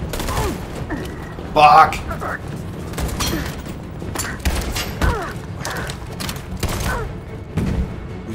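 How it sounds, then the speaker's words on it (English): Pistol shots ring out in Detroit: Become Human amid a chaotic gunfight, several sharp cracks scattered among mechanical clatter and game noise, while a man reacts over the action with a shouted curse. "precision pistol shots"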